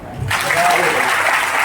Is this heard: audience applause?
yes